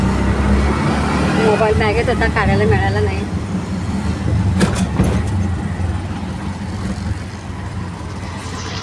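An auto rickshaw rides through city traffic, with a steady engine rumble and road noise throughout, a brief horn honk, and passengers talking close by over the drone.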